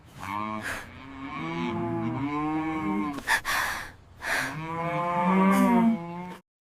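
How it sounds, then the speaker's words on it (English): Cows on a farm in the morning let out two long, drawn-out moos close by, separated by a brief pause with a few breathy snorts. "I hear cows."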